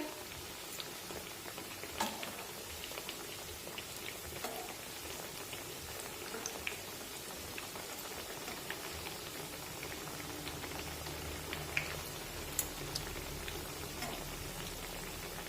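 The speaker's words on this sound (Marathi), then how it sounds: "मध्यम आचेवरच वड्या तळून घ्यायच्या" Cabbage vadi frying in hot oil over medium heat, a soft steady sizzle with faint scattered pops and crackles throughout, no voices.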